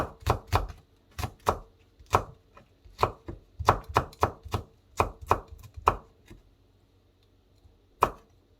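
A knife chops Cheongyang chili peppers on a cutting board in quick bursts of sharp, close taps, then pauses briefly before one final chop.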